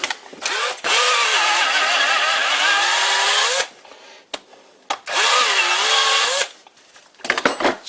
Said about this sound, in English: Let me get a bigger drill bit.